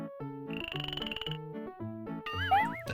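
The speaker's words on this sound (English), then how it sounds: "That's a frog." Cartoonish frog croaks from a video game listening quiz, a quick sequence of bright tonal ribbits and bloops in a bouncy rhythm, ending with a warbling whistle-like flourish, clear and alone.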